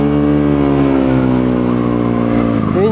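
A motorcycle engine on e-boost roars loud and close, holding a steady strained pitch that dips slightly and then jumps sharply higher at the very end as it accelerates.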